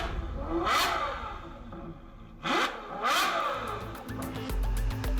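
Ferrari 812 sports car engine revving hard in repeated loud bursts, rising and falling in pitch between throttle blips, with a closer, steadier rumble building toward the end.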